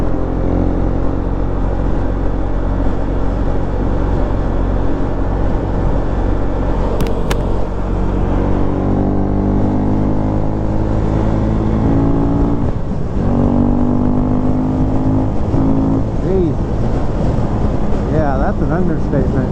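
A Husqvarna Svartpilen motorcycle engine accelerating hard through the gears on a ride, its loud, close buzzing tone climbing in pitch, dropping at shifts, then rising again, with wind noise throughout.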